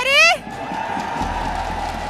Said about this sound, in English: Oh my god, the crowd is crazy.